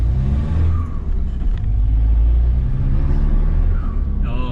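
Diesel engine of a Mitsubishi L200 K74 pickup fitted with a boost controller, driving on a motorway: a loud, steady low rumble and road drone throughout, with a brief rising whine near the end.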